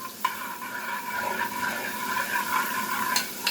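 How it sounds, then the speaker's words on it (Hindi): Garlic sizzles and crackles in hot oil in a frying pan, a steady close hiss with small pops and a stir or two, no voices. "तेल गर्म हो चुका है फ्राई पैन में और अब हम इसमें ये लहसुन डालकर इसको सोता करेंगे।"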